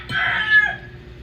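A rooster crows once on a farm, a loud, close, drawn-out cock-a-doodle-doo that rises and then trails off, with no one talking over it.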